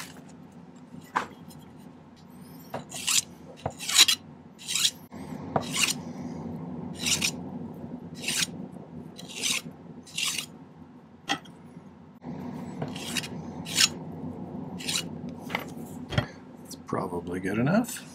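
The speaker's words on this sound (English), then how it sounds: "Now we just need to do a little bit of filing." A file rasps against a metal ring in a series of short, sharp strokes with pauses between them, close and distinct over a low background hum.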